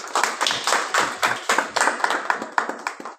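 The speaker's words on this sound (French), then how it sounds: "Est-ce qu'on peut acclamer la parole de Dieu?" A church congregation claps in response to a call to acclaim the word of God, with hand claps coming in quick, fairly regular bursts. The applause stays steady for about three seconds and then stops abruptly.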